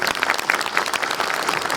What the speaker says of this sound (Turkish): Sayın Başkanımıza kocaman bir alkış rica ediyorum